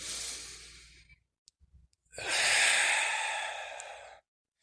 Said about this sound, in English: Really focus on that breath and blow it out